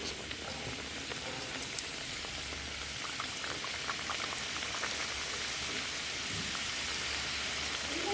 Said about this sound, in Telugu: ఇప్పుడు ఒక్కొక్కటిగా వేసుకుందాం. ఇదిగోండి ఇలా ఆయిల్లో మెల్లిగా వేసుకోవాలండి.